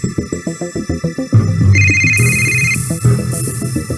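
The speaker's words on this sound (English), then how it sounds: "your phone's ringing" A mobile phone rings in the PS2 game Yakuza, a bright electronic ringtone pattern repeating over a pulsing low throb, loud and alone with no speech.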